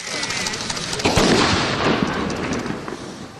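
Gunfire crackles in a dense, noisy burst of overlapping shots, loud at first and then easing off over a few seconds, with no clear speech over it.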